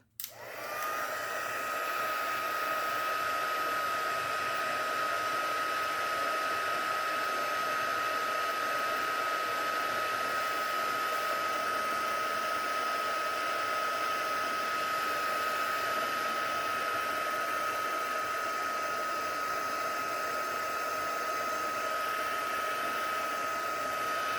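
A heat tool blasts continuously for embossing a Stampin' Up! sunflower project, a steady close whooshing hum with a fixed whine that starts abruptly and holds unchanged for the whole stretch.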